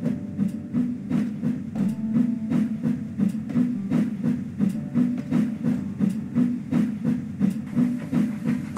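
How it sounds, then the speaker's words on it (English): Gordon the steam engine backs down onto his train in Trainz, chuffing in a steady, regular rhythm of puffs with a low mechanical drone beneath, heard fairly close and without speech. "Gordon backed down on his train, hissing mournfully."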